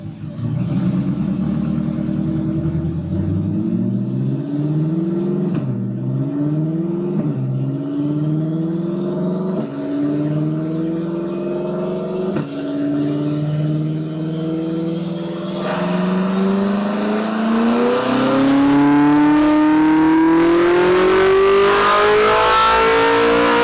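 A C8 Corvette Z06 fitted with ARH headers revs hard on a dyno, its engine note climbing in pitch through repeated shifts and swelling to a loud, sustained high-rpm scream near the end, with no talking.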